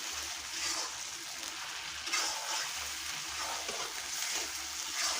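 Desi chicken sizzling and being stirred in a pan with coriander, ginger and cumin paste, a steady close hiss of frying with scraping stirs throughout.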